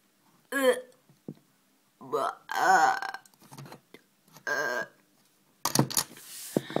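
A short burp from a video game character breaks up animated chatter, followed by a louder, rougher belch-like burst at the end, with voices talking throughout.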